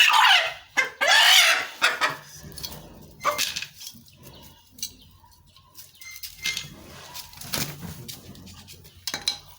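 A rooster clucks in short, loud bursts near the start, then gives quieter scattered calls during a ritual rooster slaughter, with no one talking.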